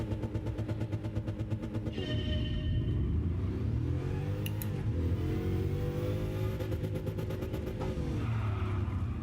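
Bugatti Veyron engine from Gran Turismo Sport, revving loudly and continuously with rising and falling pitch as the car accelerates, tire squeal and skidding noise cutting in partway through, with no talking.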